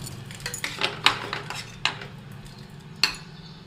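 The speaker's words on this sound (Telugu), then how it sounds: "ఇలా స్పూన్తో గంటెతోనే మెత్తగా కొంచెం మెదుపుకుంటే సరిపోతుంది" Cooked dal being mashed in a pot with a ladle: soft scraping and stirring, punctuated by a few sharp metallic clinks of the ladle against the rim, with no talking.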